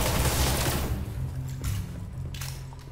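Video game gunfire from Destiny: The House of Wolves, a loud opening burst of rapid shots followed by a few separate, sharper shots spaced over the next two seconds, over a low steady hum.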